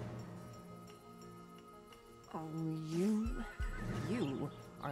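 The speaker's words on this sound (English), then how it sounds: "And that made the horse flinch and kick from behind." A horse in the Western stealth game Desperados 3 lets out a loud, close, wavering whinny that rises and falls over about two seconds, then gives a second shorter neigh, over a low steady game ambience.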